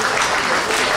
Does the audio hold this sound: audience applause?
yes